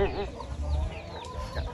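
Chickens cluck nearby in a sunny farmyard, with steady, fairly loud clucks over a low background murmur.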